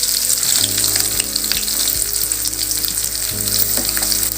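Sliced onion sautéing in hot oil with fennel seeds, a loud, continuous close crackling sizzle with occasional utensil scrapes and knocks as it is stirred, no voices.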